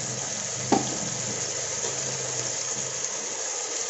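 Tomatoes hit a pan of well-softened onions with a bay leaf for a mutton biryani base gravy, giving a steady, loud sizzle throughout with a brief clatter near the start.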